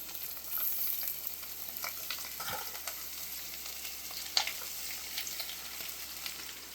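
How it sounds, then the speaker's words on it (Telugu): Ivy gourd pieces fry with green chillies in a pan, making a soft, steady sizzle with occasional light stirring scrapes and a single sharp clink near the end, with no voices. "ఇప్పుడు ఇందులో దొండకాయ ముక్కలు వేసేసుకుందాం"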